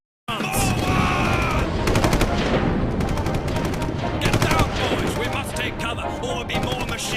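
Sustained machine gun fire rattling in rapid bursts with loud gunshots on a World War I battlefield in a countryballs cartoon, dense and close throughout, with a voice speaking over the barrage.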